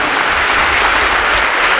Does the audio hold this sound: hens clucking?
no